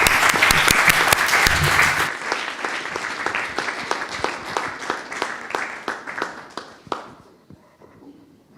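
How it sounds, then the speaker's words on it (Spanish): Audience applause at a cultural talk, dense and loud for about two seconds, then thinning to scattered claps that fade out near the end. "damos paso a la segunda parte con un aplauso sobre todo a Manuel y a Beatriz"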